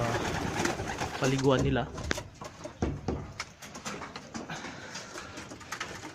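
Domestic pigeons coo in soft, repeated rolling calls, while a person talks over them in a Filipino household setting.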